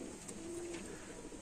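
Pigeons coo in a loft, a newly paired male and female, with one soft sustained coo standing out over a steady low murmur of birds close by.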